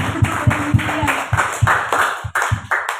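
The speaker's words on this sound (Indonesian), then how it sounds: "Tepuk tangan dong semua" A congregation claps in a steady rhythm during a church worship service in Rote Ndao, with sharp, evenly spaced claps and a warm background of voices or music.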